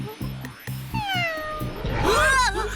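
A cat in a Korean animated series (Hello Carbot) meows loudly and plaintively, with rising and falling drawn-out calls over a rumbling background and some brief thumps.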